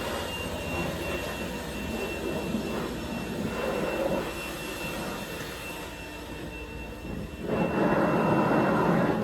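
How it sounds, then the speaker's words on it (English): Compressed air blasts dust off the exhaust of a combine harvester during an Idaho wheat harvest, a steady loud broadband hiss that runs continuously and swells louder near the end, with no talking. "Then you just got to blow the exhaust off because it gets some dust on it."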